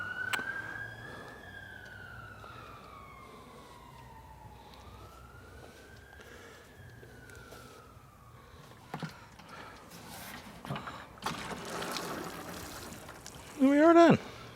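A fire engine siren wails slowly up and down as it passes along a residential road, fading into the distance, followed by a few scattered knocks and a short squeaky sound at the end.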